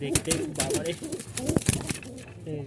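Fancy pigeons with eggs and squabs at a farm loft in Mirpur-1 coo in low, rolling bursts, close by, mixed with sharp clattering and shuffling noises.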